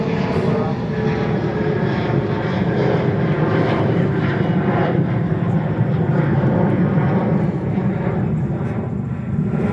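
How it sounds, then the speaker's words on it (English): A Pilatus PC-12 turboprop on approach to JFK, its engine drone a loud, continuous, slightly throbbing hum that holds steady from start to finish. "So the PC-12 is coming in front of Lufthansa."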